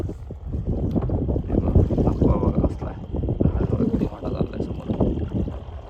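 A fishing boat on the sea, engine drone and water rush with wind buffeting the microphone, loud and steady throughout.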